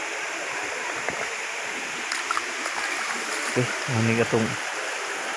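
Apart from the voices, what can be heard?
waterfall at Mayahay Falls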